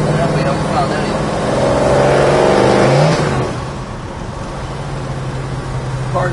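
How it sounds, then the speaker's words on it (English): A 1967 Chevrolet Chevelle engine runs while the car drives down the road, its loud steady drone swelling as it pulls harder, then easing back to a lower hum. "Car goes down the road straight as an arrow."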